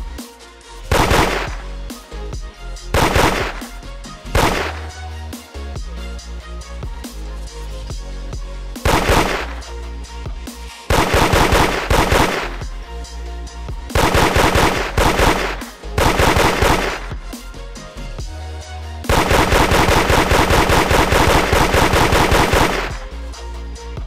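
Rapid automatic gunfire from an upgraded elf camera woman unit in the Roblox game Toilet Tower Defense comes in loud repeated bursts separated by short pauses, ending in a long sustained volley.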